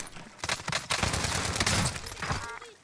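Dense rapid gunfire from an online shooter game, a loud continuous burst of shots lasting a couple of seconds that fades near the end.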